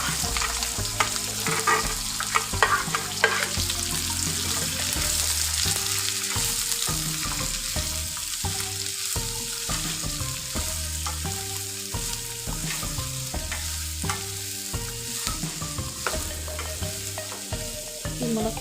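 Drumsticks (moringa), onion, green chilli, curry leaves and garlic fry in a pan for an egg curry, giving a steady close sizzle under repeated stirring with no voices.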